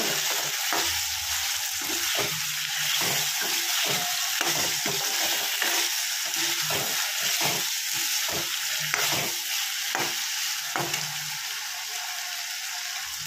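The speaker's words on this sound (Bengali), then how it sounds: "এবার হালকা হালকা করে একটু নেড়ে নেব।" Fig curry fries on low heat in a pan, a constant bright sizzle overlaid with repeated rhythmic scraping strokes of a stirring spoon, close and steady, no speech.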